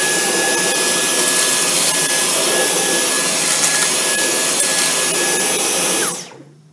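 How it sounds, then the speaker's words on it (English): A Dyson V10 Motorhead cordless vacuum on max power cleans debris from low pile carpet, giving a loud, steady whir with a high motor whine that abruptly winds down near the end. "our V10 motor head on max power mode, dealing with a debris field on low pile carpet"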